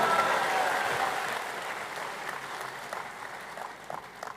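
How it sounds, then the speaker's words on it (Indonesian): Audience applause at an Indonesian political party congress: a crowd clapping, fairly full at first and then gradually tapering off, with a few louder isolated claps near the end under faint background noise. "tepuk tangan untuk kita semuanya"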